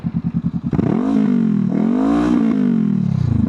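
Honda CB500F parallel-twin engine with a Black Widow exhaust, baffle removed, starts with a lumpy idle pulse, then revs up sharply, holds high, dips and revs again, loud and close with no talk.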